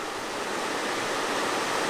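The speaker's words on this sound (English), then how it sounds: "Towards the bottom we have several springs squirting out in different places before we get over here to the main one, the big one" Spring water gushing out into an Ozark stream, a steady, close, full rushing splash with no voices over it.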